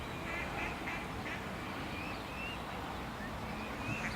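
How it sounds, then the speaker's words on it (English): Ducks quack on a lake in the morning with swans nearby, a run of scattered calls at moderate distance over steady outdoor background noise. "Lots of ducks, even some white swans on the lake this morning."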